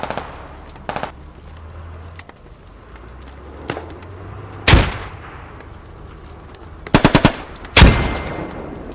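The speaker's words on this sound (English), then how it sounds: "There's an MG covering the south of our objective, directly west." Machine-gun fire in a military video game, several sharp bursts and single loud cracks spaced irregularly over about nine seconds, some near and some more distant, over a low background rumble.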